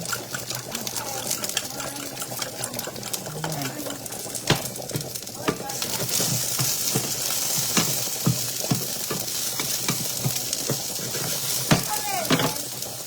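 Eggs frying in cooking oil in a pan, a steady crackling sizzle with sharp pops and spits throughout, close and fairly loud, with faint voices in the background.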